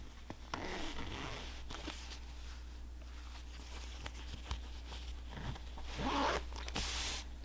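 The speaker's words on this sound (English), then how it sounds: "Here's my zipper front." Zipper on the front of a sewn pant/skirt being handled, with soft rustling and a few brief scratchy zips over a steady low hum, fairly faint and close.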